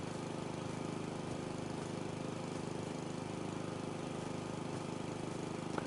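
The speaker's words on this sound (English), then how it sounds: "you get to use the lawnmower" A lawnmower in the video game House Flipper 2 gives a faint, steady, buzzing engine drone that runs unbroken throughout.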